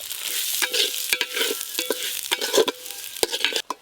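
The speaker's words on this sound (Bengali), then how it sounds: "এবার হলুদ আর ঘি মেশানো যে চাল আছে, চালগুলো দিয়ে দেব" Rice mixed with turmeric and ghee stirred into a pan of frying bay leaves and whole garam masala, giving a close, steady sizzle broken by repeated scraping stirs of a spoon against the pan.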